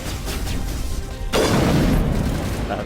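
A heavy gunshot boom in the Mass Effect video game lands abruptly midway, loud and close, its noisy blast ringing out over continuous background game ambience.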